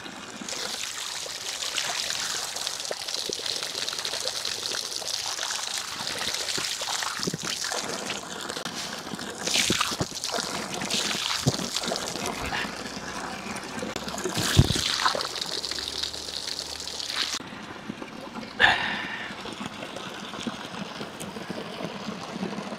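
Spring water trickling and splashing beside a river at Bancod, Indang, Cavite, a close, continuous babble with occasional louder splashes and knocks.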